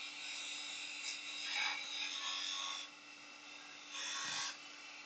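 Sandpaper of 180 and 240 grit rubs against wood spinning on a lathe, a soft, continuous raspy hiss that swells in a few strokes, fairly faint, with a steady motor hum underneath.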